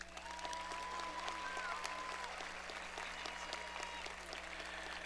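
An audience at a 2024 high school graduation ceremony in Parkersburg applauds: a sustained, even crowd clapping with a faint hum underneath and a brief high whistle-like tone riding over it for a moment.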